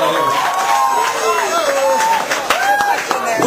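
Wedding guests at a game-show-style reception let out a loud, sustained crowd cheer with whoops and shouts, some clapping scattered through it.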